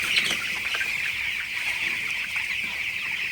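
Broiler chickens in a shed bedded with rice husk, a dense steady chorus of clucking and chirping from many birds close by, with no pauses.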